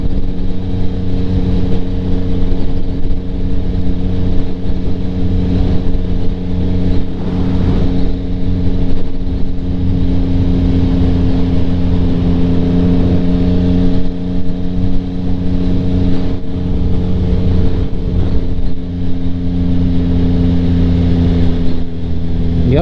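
A 2025 Yamaha MT-09 motorcycle fitted with a Kelpi Flanker exhaust riding along, a steady close engine drone with wind noise that rises and falls gently through gear changes.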